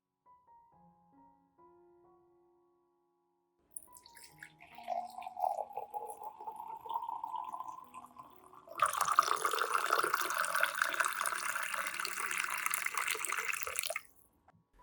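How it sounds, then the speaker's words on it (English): Hot water is poured into about a teaspoon of coffee: a soft rising trickle, then a louder, steady splashing pour lasting several seconds before stopping abruptly, close and alone. "I will dissolve 1 teaspoon of coffee in about 500 milliliters of hot water"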